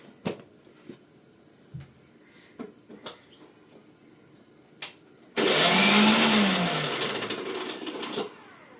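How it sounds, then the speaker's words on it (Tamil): A mixer grinder briefly grinds chopped chayote with toor dal: a loud, steady whirring burst of about three seconds after scattered clicks and knocks, ending abruptly. "இந்த பாருங்கள், இன்னும் கொஞ்சம் அரைக்கணும்"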